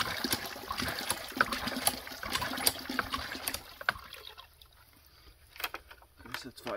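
Water gushes and splashes from a hand-pumped sand point well at an off-grid cabin, with a rhythmic pulsing flow that stops partway through before a faint splash returns near the end.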